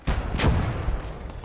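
German 88mm cannon fire in a World War II video game: two heavy booming blasts close together near the start, followed by a rumbling, fading tail.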